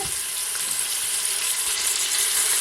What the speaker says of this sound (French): on va faire revenir la viande